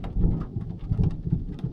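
Thunder from a nearby lightning strike during rain at a pond, a brief rumbling crackle over steady rainfall, close and fairly loud.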